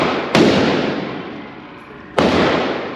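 Two loud, sharp reports from a Smith & Wesson M&P 10mm handgun firing full-power Sig and Underwood ammunition, each blast followed by a long, rolling echo that fades slowly, with the shots about two seconds apart.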